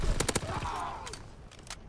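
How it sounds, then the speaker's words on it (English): In a video game, an FG gun fires slowly: a few widely spaced, sharp shots ring out, a quick cluster near the start and then two more apart, with a voice briefly heard between them. "The FG shoots so slow now."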